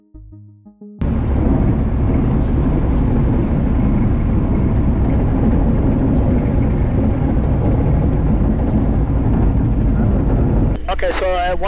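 Steady loud drone of an experimental light airplane's engine and cockpit noise during approach and landing on a runway at Tucson, a constant roar lasting about ten seconds before cutting off.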